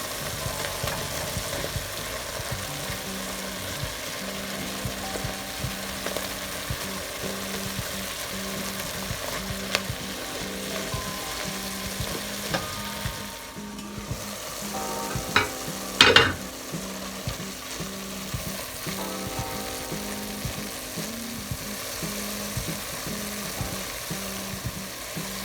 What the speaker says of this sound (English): Grate the ground turkey even more.